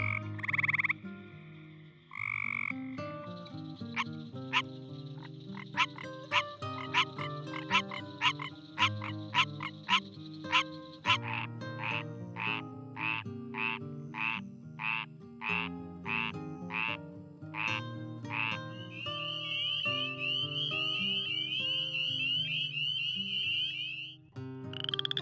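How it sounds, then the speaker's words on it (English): Narrowmouth frogs from eastern Texas call in a dense chorus, with buzzy trills and rapid clicking pulses layered over droning tones, then a long high nasal buzz near the end. "Two kinds of narrowmouth frogs are widely distributed in eastern"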